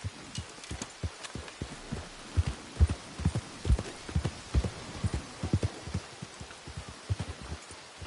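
A horse's hooves clip-clop in a PS4 video game, a steady rhythmic series of soft thuds at walking pace, moderately close, with no speech.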